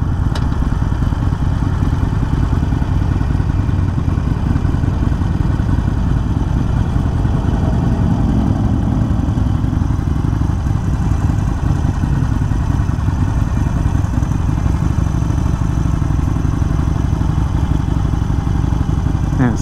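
A Harley-Davidson Iron 883 motorcycle engine runs steadily and loudly up close, a continuous low rumble with mechanical clatter and no pauses.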